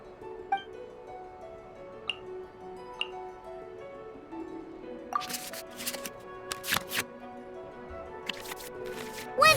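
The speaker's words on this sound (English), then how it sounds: "we can select any number of cards in our hand to shuffle back into the draw pile" Cards being shuffled in Genshin Impact's card game, several quick crisp riffling bursts in the second half over soft musical tones and scattered light ticks, fairly faint and close.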